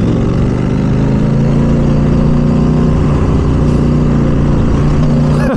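A truck engine rumbles loud and close on a rural road, a steady drone that holds through the moment with a slight shift near the end, no voices over it.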